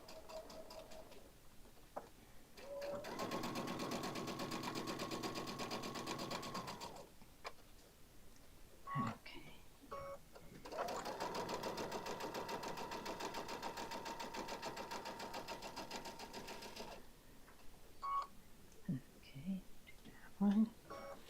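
A sewing machine stitches forwards and backwards on a tote bag in two long steady whirring runs of several seconds each, with short quiet pauses and a few soft handling clicks between them.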